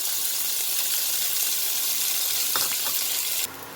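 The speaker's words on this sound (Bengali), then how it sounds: "প্রথমে আমি তেলের মধ্যে পেঁয়াজটা দিয়ে দেবো।" Onions, two small ones added whole to hot mustard oil for begun pakora, sizzle steadily with a loud, even hiss throughout, a few clinks near the end, then the frying cuts off abruptly.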